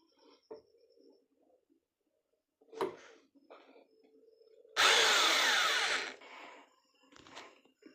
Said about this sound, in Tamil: இங்கே ட்ரில் பண்ணி ஹோல்ஸ் பண்ணிவிட்டு நான் காட்டுறேன்